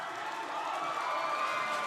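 Arena crowd at a women's hockey game sending up a steady, sustained roar of cheering that fills the whole moment without pause.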